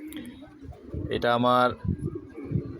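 Pigeons in a newly built loft coo in one clear, loud rolling call lasting about half a second, with someone speaking before and after it.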